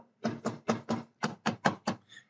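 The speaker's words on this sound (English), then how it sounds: "if you knock on anything around you" Eight crisp knocks on a hard object, evenly spaced in a quick rhythm with the last one softer, close and fairly quiet with nothing else around them.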